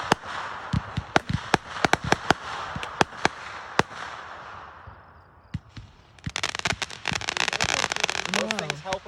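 Fourth of July fireworks pop and crackle in rapid irregular bursts, some sharp and close, then a dense crackling barrage near the end, with people talking underneath.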